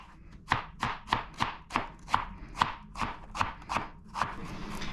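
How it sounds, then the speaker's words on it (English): A knife chops onions on a cutting board in a steady rhythm of about a dozen crisp, evenly spaced thuds, close up and without talk. "Here's how I cut onions, or how I cut onions for meat sauce."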